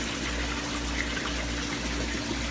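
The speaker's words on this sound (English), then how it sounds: "There's a lot of water coming out of that one." Water gushes steadily from the outlet of an aquarium grow-out tank in a fish room, a continuous close splashing flow with no pauses.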